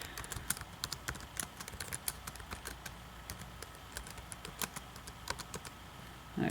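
Fast, irregular tapping on a computer keyboard as a message is entered in a chat box, with many faint, close keystrokes and no voices.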